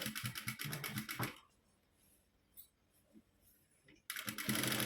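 A sewing machine stitches a princess-cut blouse in rapid clattering bursts, running at the start, pausing into near silence with faint handling noises, then resuming loudly at the end.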